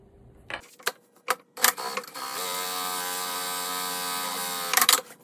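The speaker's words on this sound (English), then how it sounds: "Replace the foot and sew the right side." Several sharp clicks of a sewing machine being set up, then a steady mechanical whir with a fine rapid rattle as it stitches Ripplefold snap tape, ending in a few more clicks.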